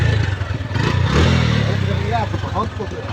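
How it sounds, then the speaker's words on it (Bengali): A used motorcycle at a bike market in Joypurhat Sadar idles nearby with a chugging engine note that swells slightly, while people talk over it and surrounding market chatter continues. "এই হচ্ছে বাইকটার সাউন্ড, দেখুন"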